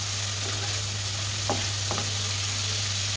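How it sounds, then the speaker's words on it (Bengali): Dried bamboo-leaf fish (shutki) sautéing in a pan, a steady broadband sizzle with a couple of brief scraping stirs of a spatula against the pan, close and continuous with no voices. "তো এখন মাছটা একটু কষিয়ে নিচ্ছি"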